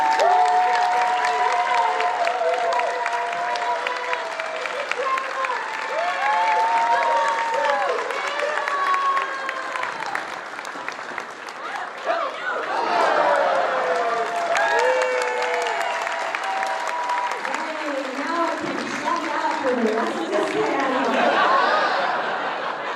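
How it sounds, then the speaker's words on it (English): Audience applause at a Geek & Sundry convention panel during Gen Con 50: steady crowd clapping fills the whole stretch, with voices and some laughter mixed in over the top. "then we can all applaud"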